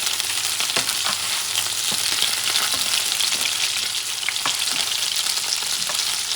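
Scallops searing in a pan over medium-low heat, a loud, continuous crackling sizzle with scattered pops throughout and no voices.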